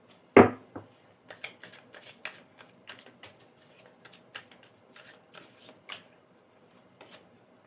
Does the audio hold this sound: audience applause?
no